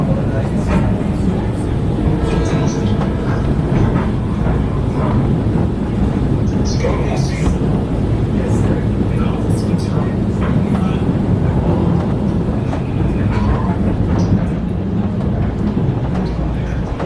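A commuter train on the Danbury branch runs along the rails through an urban area, a loud continuous rumble and rattle with faint scattered sounds above it.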